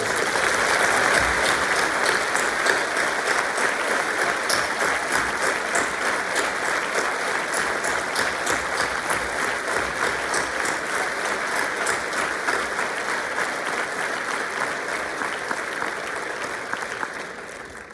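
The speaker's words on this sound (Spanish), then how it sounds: "llévate un aplauso de este congreso para el buen Hernández" A large union congress audience applauds in a dense, continuous wash of clapping that stays loud and steady for a long stretch before fading slightly at the end.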